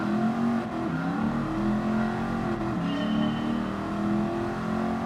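A 1969 Mustang Boss 429 muscle car racing laps at the high speed ring in Gran Turismo 7, its engine droning loud and steady with rising and falling revs through gear changes, no talk.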